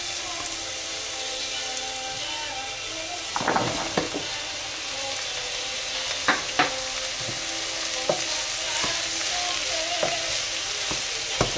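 Onion and mushrooms fry in a pan for a paleo frittata, a continuous close sizzle broken by occasional scraping strokes and sharp clicks of a utensil.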